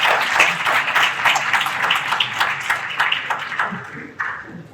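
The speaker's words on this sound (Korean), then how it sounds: "이분들께도 박수 한번 부탁드리겠습니다." An audience at an extraordinary general assembly of an association in Korea claps in a moderate round of applause with distinct individual claps that thins out toward the end.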